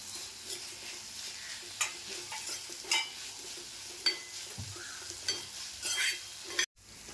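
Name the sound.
stirring and sautéing moringa leaf and lentil dish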